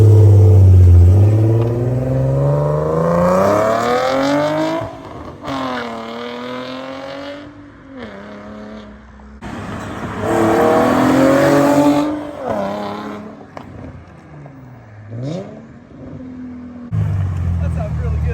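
An Infiniti G37 fitted with test pipes revs hard repeatedly, the loud raspy exhaust climbing and falling in several sharp pulls close by, with short pauses between bursts.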